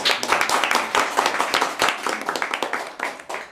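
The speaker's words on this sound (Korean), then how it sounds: "격려의 박수 좀 한번 해주시고" Encouraging applause at a Korean community association board meeting in Hawaii, a room of people clapping in quick, even, crisp claps that carry on for several seconds, close and clear.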